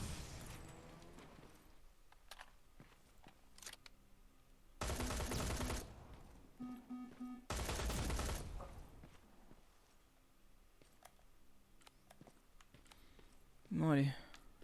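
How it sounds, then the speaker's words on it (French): Gunfire in a video game, bursts of automatic shots sprayed at a wall, two loud sustained volleys with scattered single shots and mechanical clicks between them, fairly close. "Tire dans le mur, t'as raison, c'est bien de gâcher les balles."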